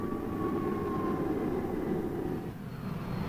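An F-104 Starfighter supersonic jet fighter in flight gives a steady, moderately faint roaring whoosh with a thin whining tone that slowly falls in pitch, dipping briefly near the end, with no voices.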